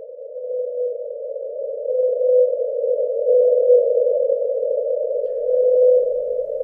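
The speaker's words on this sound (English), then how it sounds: "a recording was made of a whale that was unusual" An unusual whale calling at 52 Hz holds a single steady, droning tone that swells slightly in loudness and continues unbroken, with nothing else around it.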